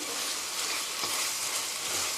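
Soy sauce chicken sizzles and fries in a hot pan while being stirred, a steady dense hiss with soft scraping accents throughout, close and continuous with no talking.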